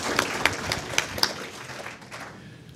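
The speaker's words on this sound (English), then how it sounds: "join me in welcoming our event's moderator, the industry veteran and principal of intrinsic strategy and GeekWire columnist, Frank Catalano." Conference audience applauding as an education entrepreneurship event's moderator is welcomed: scattered sharp claps over a light crowd wash, fading toward the end.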